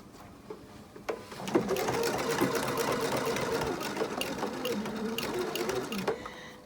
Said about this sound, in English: I'll continue stitching close to the edge